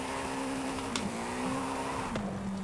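BMW E46 drifting without assists in Forza Horizon 5, a sustained engine drone wavering in pitch with tire squeal and brief scrapes, close and continuous, no talking.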